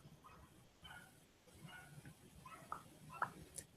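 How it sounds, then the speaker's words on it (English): A dog barks and yips faintly in the distance, giving several short, scattered calls over a quiet background. "there's the dog, the irritating dog"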